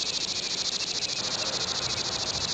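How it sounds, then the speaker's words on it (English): A steady, dense chorus of 17-year periodical cicadas, a continuous high buzzing drone that holds level throughout with no pauses, alone and fairly close. "an amazing phenomenon of nature takes place. That of the 17-year cicada."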